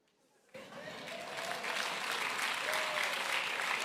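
A church congregation bursts into applause during a sermon, starting abruptly after a brief quiet moment and building into sustained clapping from a large crowd, with faint cheering mixed in.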